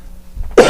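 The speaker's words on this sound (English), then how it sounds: "I'm gonna start coughing again." A single sharp cough bursts out near the end of a quiet stretch at a town board of selectmen meeting, loud and close.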